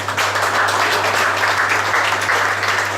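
Steady applause from an audience at an evening award ceremony for an international silver medal in tourism and gastronomy. It carries evenly across the whole stretch over a low constant hum, with no distinct voices.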